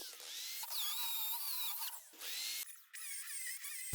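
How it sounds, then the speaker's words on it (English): A hammer drill in impact mode with a masonry bit whines and chatters into a paver stone in several bursts with brief breaks between, close and harsh. "I was forced to use a drill which was set to impact mode with a masonry bit in the chuck"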